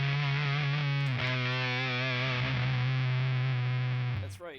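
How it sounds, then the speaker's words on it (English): Single-coil electric guitar driven through a fuzz pedal into a clean amp with a bright switch, playing sustained, heavily distorted notes with a thick, saturated tone that holds steadily before a brief pitch drop near the end. "This is a fuzz into a pretty clean amp."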